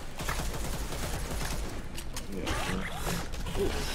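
A gun fires in the zombie game Dead Island 2, giving dense, rattling bursts of shots mixed with mechanical clicks and clatter at a steady loud level.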